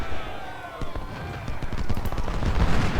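Skirmisher gunfire in Ultimate General: Civil War, scattered rifle shots crackling irregularly over a rumbling battle backdrop, several sharp reports in quick succession, moderately loud.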